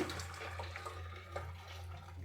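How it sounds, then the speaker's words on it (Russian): Boiling water pours from a kettle over tomatoes for pickling, a soft continuous splashing stream under a low steady hum, quiet and close. "Заливаю кипятком."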